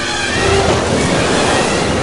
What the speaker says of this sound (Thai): โอ้ยคลื่นลมแรงอีกแล้วพวกเรา